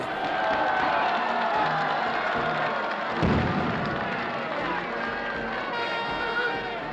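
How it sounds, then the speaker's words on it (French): A large crowd in Mont-de-Marsan cheers the town's rugby players during a night of street celebration, a dense, continuous roar of voices and shouts with a brief low thump midway. "Sous une pluie d'acclamations, la ville fête les joueurs"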